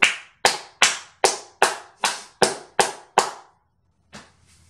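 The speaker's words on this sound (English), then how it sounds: "Claps." A single person claps nine sharp, evenly spaced times up close in a quiet room, then stops, and one softer clap follows after a short pause.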